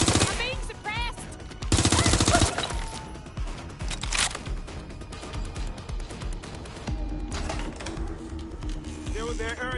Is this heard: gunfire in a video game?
yes